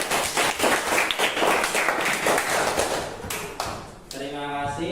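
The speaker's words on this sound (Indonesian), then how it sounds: "Mari kita kasih aplaus semuanya kepada Danti" Classroom applause for a student named Danti during an Indonesian teaching session, a dense burst of clapping from a group that lasts around four seconds and then stops, followed by a voice.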